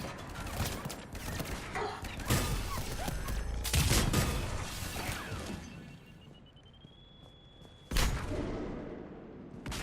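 Gunfire in the video game Mass Effect 3 during an assault on Omega, with bursts of shots, crashes and impacts spread through a dense battle din, a sharp loud burst near the end.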